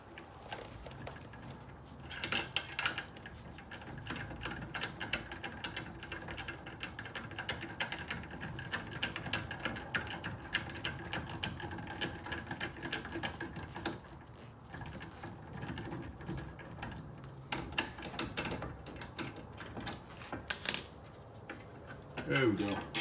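Metallic clinks, scrapes and ratchet clicks from a wrench working the bottom caliper bolt loose on a car, close up and irregular, with a few sharper knocks near the end; no talking.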